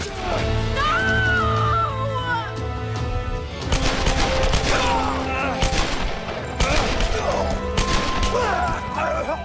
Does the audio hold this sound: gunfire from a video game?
yes